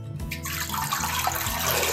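Turmeric-infused lye water is poured through a filter into oils for homemade soap, a steady close splashing trickle that begins with a short gush and keeps running.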